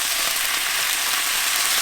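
A cornstarch and water mix hitting hot pot roast meatball sauce, giving a dense, loud, continuous sizzle heard up close with no talk.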